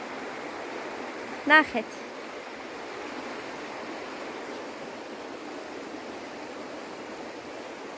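River water in flood flowing near a swing bridge, a steady broadband rushing that runs throughout, with a brief spoken word near the start.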